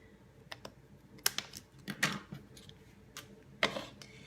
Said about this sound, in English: And then I'll trim off this excess.